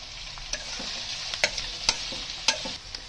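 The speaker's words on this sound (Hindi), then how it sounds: "अब मैं साथ में ही सारे गाजर भी डाल दूंगी।" Long-cut carrots and medium onions stir-fry over high flame, a steady sizzle broken by sharp spatula scrapes and taps against the pan at uneven intervals, with no talking.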